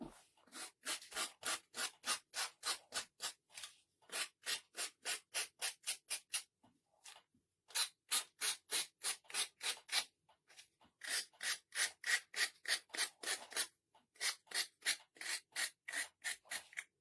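Hand sanding on the edges of a wooden Christmas mouse ornament, a quiet, close series of rhythmic rasping strokes that comes in several runs with short pauses between them.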